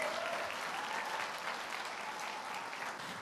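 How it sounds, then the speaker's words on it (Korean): At a graduation ceremony for the 14th class of a discipleship college, a crowd gives a steady round of applause that sounds distant and fairly faint throughout. "여러분 큰 박수로 축하해 주시기 바랍니다"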